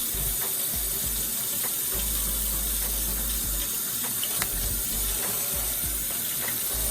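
Steady scrubbing and running tap water while a crab's shell is cleaned at a sink, a continuous close wash with small scraping clicks and no talk.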